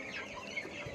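Fourteen-day-old chickens on a poultry farm cluck softly amid a continuous rustling flock murmur, heard for about a second with no talk.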